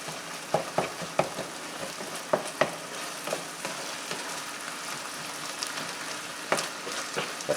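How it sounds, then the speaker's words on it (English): Ground chicken and beef sizzle steadily while frying in a pan, a constant crackling hiss broken by sharp utensil taps and scrapes, with no one talking. "Now I'm going to continue to cook this until the meat is done and it has good caramelization."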